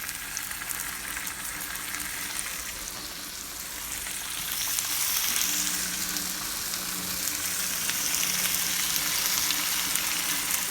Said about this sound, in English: So we'll get this seared up on both sides